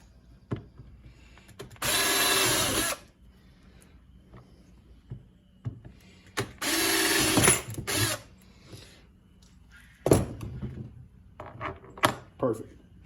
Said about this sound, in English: what I need to do now is just drill these out